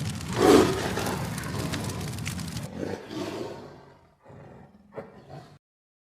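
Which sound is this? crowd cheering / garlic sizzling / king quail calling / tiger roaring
tiger roaring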